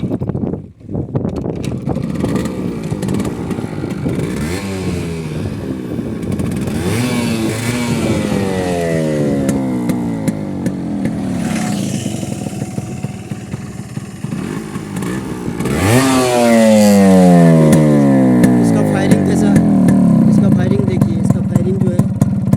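A Yamaha RX100 motorcycle with its original two-stroke Japanese engine starts up and revs repeatedly, each throttle blip rising and falling, growing louder and harsher toward the end, heard close with wind noise.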